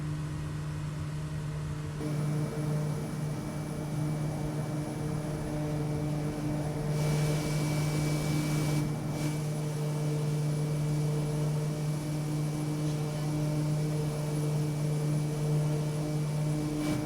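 Steady, droning engine and propeller hum of a Kodiak 100 turboprop in flight over Papua New Guinea's bush country, heard from inside the cabin as a constant, fairly loud tone that holds evenly throughout.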